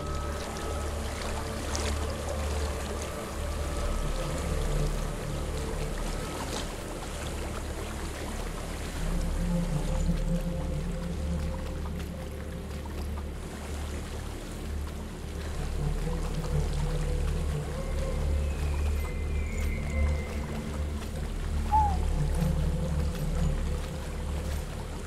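A river flows steadily in the video game Hellblade: Senua's Sacrifice, a continuous low rush of water with faint splashes and occasional soft sounds over it.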